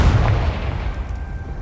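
Confringo spell blast in the Hogwarts Legacy video game: a loud, deep explosive boom right at the start that rumbles and fades away.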